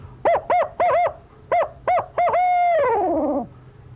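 A human voice imitates a barred owl's hoot, close and clear, with a rhythmic run of short hoots in two groups ending in a long, wavering, falling call. No one speaks over it.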